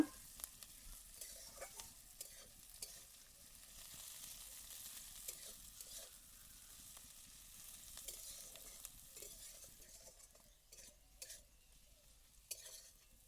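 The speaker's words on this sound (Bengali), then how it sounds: "এবার পেঁয়াজটাকে নাড়াচাড়া করে একটু ভালো করে ভেজে নেব।" Sliced onion with a pinch of salt sizzles steadily in a pan while being stirred, with scraping and stirring strokes scattered over the continuous frying hiss, close up and with no talking.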